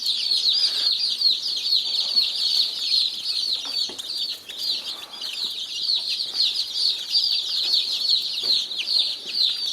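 Baby chicks peep in a dense, continuous high chorus on a homestead, with occasional soft clucks and faint rustling from the flock close by.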